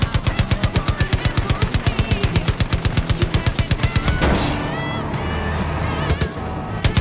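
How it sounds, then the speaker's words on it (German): Truck-mounted cannon firing in Far Cry 5: rapid, loud, evenly spaced bursts of automatic gunfire for about four seconds, then the barrage stops into a rumbling, ringing tail with a couple of later isolated shots. "Mein Dad hat Kanonen in dieses Ding eingebaut."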